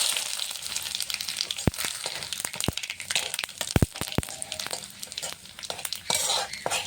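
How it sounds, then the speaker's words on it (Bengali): Bay leaf, dried red chilli, whole cumin and nigella seeds sizzle and crackle in hot oil, a steady frying hiss punctuated by sharp pops and stirring clatters, close by with no talk. "ফোড়নের জন্য নিয়েছি তেজপাতা শুকনো লঙ্কা গোটা জিরে কালো জিরে একসঙ্গে দিয়ে দেবো"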